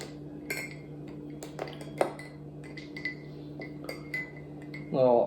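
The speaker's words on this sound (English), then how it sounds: "Give it a little stir." A spoon stirs iced coffee with milk in a glass, giving a few light clinks and taps spread over a few seconds, ending in a louder swirl of liquid and ice up close.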